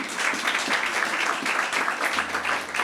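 A congregation at a church service applauds the Lord, a steady wash of many hands clapping together, fairly loud and sustained throughout with no break.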